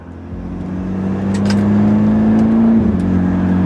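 A BMW F30 with a sport transmission accelerating hard, its engine drone climbing steadily and then dipping briefly at a gear change, loud and close inside the car.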